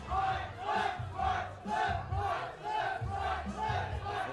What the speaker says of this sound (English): And that crowd getting into it.